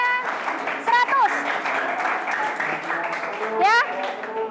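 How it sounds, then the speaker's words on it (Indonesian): A classroom of students claps for a group that answered correctly, a light patter of applause under voices, with a couple of students speaking and shouting over it. "Silakan tepuk tangan."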